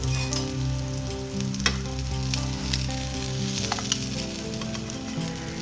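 Chocolate French toast sticks sizzle steadily in a hot pan as they are flipped, a dense, even frying hiss with a few light clinks, close and continuous.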